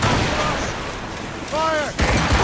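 Ship cannons boom in the video game Assassin's Creed Rogue, a loud heavy blast near the end over a dense roar of battle noise, with voices shouting faintly beneath.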